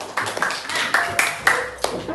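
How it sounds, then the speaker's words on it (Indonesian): Children in a classroom clap together at their teacher's call, with a handful of sharp, uneven claps spread across the moment while voices carry on close by. "tepuk tangan untuk anak-anak."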